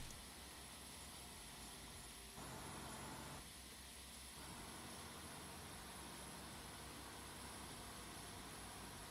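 Simulated airliner jet engines on a TFDi 717 in the Prepar3D flight simulator whine in a steady, broadband roar, with a brief shift in tone partway through, constant and fairly faint, with no talk.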